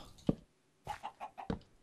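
A chicken in the video game Minecraft clucks in a short run of quick, close clucks, a single one first and then several in a row, with no talk over it.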